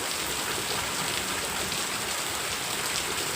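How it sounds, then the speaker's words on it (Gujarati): Heavy village rain pours down in a dense, steady hiss, loud and unbroken throughout with no voices. "જો કેટલો વરસાદ છે, ભૂકા કાઢે છે."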